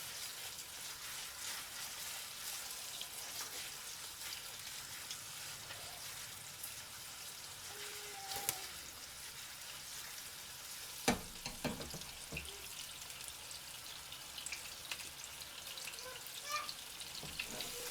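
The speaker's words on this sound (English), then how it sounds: "you just want to really saute them and get the outside nice, dark, and crispy" Meatballs sauté in oil in a pan with a faint, steady sizzle, broken now and then by small pops and spatters, with no talking.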